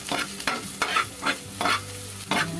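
Onion and garlic sautéing in a pan at home, with steady sizzling and frying broken by several brisk stirring scrapes at a roughly regular pace, loud and close, no voices.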